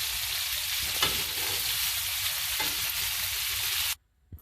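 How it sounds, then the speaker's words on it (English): Food lightly browning in a frying pan while being turned, a steady bright sizzle running throughout with a couple of soft scraping nudges, close and loud, cutting off abruptly near the end. "we're going to lightly brown them, turning them as we go."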